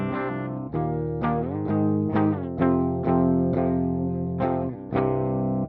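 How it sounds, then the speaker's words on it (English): A clean electric guitar DI signal sent through a GGD Studio Cabs impulse response plays a bright run of plucked notes and chords, each attack crisp and sustained, close and steady with no voices. "So this is what the guitar's DI sounds like"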